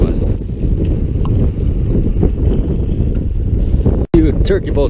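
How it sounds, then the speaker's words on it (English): Strong headwind buffeting the microphone during a long road bicycle ride, a steady loud low roar of wind noise throughout, with a brief dropout near the end. "looks like we're gonna have quite a headwind just from the look of the flag in front of us"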